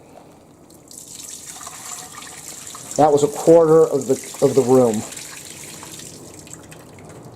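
Dirty water from a Hoover carpet cleaner pours steadily into a sink with a continuous rushing splash, while a person briefly speaks over it midway.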